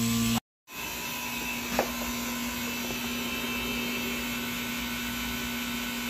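A vacuum pump evacuates the A/C system of a 2016 Mercedes-Benz CLS400 4MATIC with a steady electric hum and whine that drops out briefly, then resumes and runs on alone.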